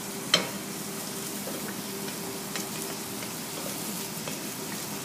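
Mirepoix sautés over medium-high heat, cooked for color as the base of an espagnole sauce: a steady, soft sizzle and crackle runs throughout, with one sharper pop near the start and a few faint clicks and stirs.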